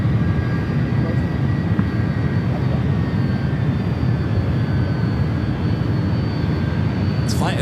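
Delta Boeing 767 jet airliner taxiing at San Francisco airport, a steady broadband engine rumble with faint high whine, continuous and fairly close.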